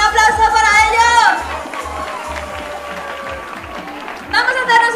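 A crowd claps and cheers for a few seconds, with voices and music around it, loud and close.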